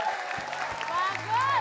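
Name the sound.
studio audience applause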